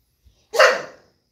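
A single loud, close dog bark, sharp and brief, after near silence.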